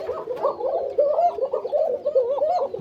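A koka pigeon on a farm cooing close by, repeated soft throaty rolling coos in a steady rhythmic series with no one talking.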